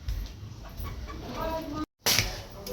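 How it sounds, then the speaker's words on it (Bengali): A chicken clucks up close in a rural yard, giving a run of short, throaty calls. The sound cuts out for a moment before the clucking resumes. "তো মুরগি দেখানো হয়ে গেছে,"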